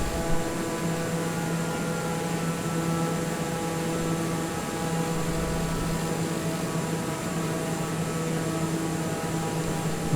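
A TBM 930 single-engine turboprop in flight on approach with flaps and landing gear coming down; a steady, loud cabin drone of engine and airflow with constant tonal hum runs throughout, no distinct mechanical clunk standing out.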